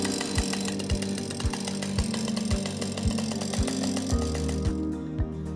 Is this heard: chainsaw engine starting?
yes